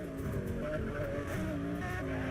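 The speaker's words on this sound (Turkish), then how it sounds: "Araba sürüş test edelim biraz." A car in the racing video game Need for Speed World drives with a steady engine drone whose pitch shifts up and down as it accelerates, with a faint hint of tire noise and no talking.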